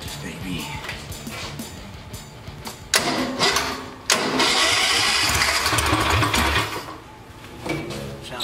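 A Wheelie Horse garden tractor's small engine, choked, cranks and sputters in uneven bursts, catching briefly and dying, then starts and runs with a rough, rattling idle close by.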